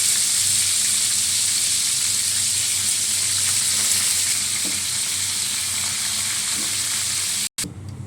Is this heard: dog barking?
no